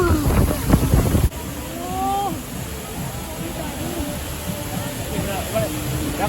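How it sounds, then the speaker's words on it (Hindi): Steady broad rushing roar of the Amitabh Bachchan waterfall in North Sikkim, with wind buffeting and voices talking over it near the start. "ये अमिताभ बच्चन वाटरफॉल्स है।"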